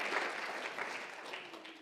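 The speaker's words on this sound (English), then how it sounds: "Let's give them a round of applause." Audience applause at a public talk, a steady wash of clapping held at moderate level for about two seconds with no voices over it.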